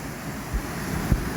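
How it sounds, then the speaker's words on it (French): A small waterfall at the Grudé cascade, roughly three metres high, pours in a steady, close, broadband rush of falling water, with a few brief low buffets of wind against the microphone and no voices. "la cascade de Grudé. Je sais pas, j'estime à 3 mètres de haut."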